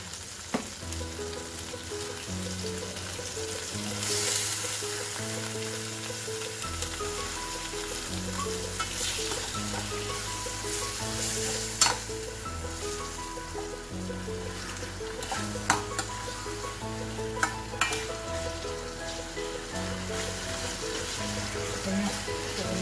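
Green chillies sautéing in a pan for a spicy masala-coated vegetable dish, a steady crackling sizzle with occasional sharp pops, heard under continuous background music.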